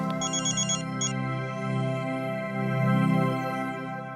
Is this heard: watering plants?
no